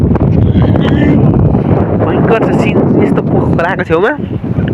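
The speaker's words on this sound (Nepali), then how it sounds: "कस्तो चिसो हावा आइरहेको छ" Cold wind gusts across an open riverbank, buffeting the microphone with loud, rough, fluctuating rumbles while someone talks continuously over it.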